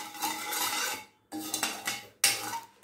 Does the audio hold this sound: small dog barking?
no